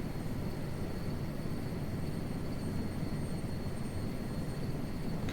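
A helicopter in Microsoft Flight Simulator flying while drifting sideways: a steady, loud whirring engine and rotor drone with a constant high whine, continuous and unchanging throughout.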